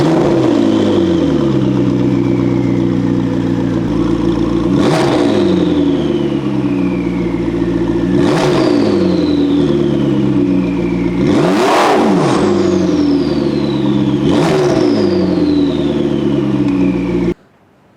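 A naturally aspirated 5.2-litre V10 engine in a supercar idles with a deep rumble, then revs sharply four times, each rev climbing quickly and falling away, loud and close.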